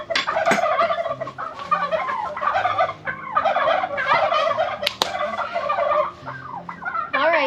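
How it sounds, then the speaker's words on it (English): A group of turkeys at a backyard garden gobble loudly and close by, with overlapping bursts of rattling calls repeating one after another and only short pauses between them. "All right, turkeys, calm down. Wow, they get loud."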